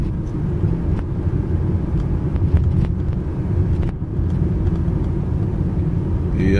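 A car cruises along the Santos beachfront at about 50 km/h, a steady low engine and road rumble filling the whole stretch from inside the cabin, with faint ticks and rattles over it.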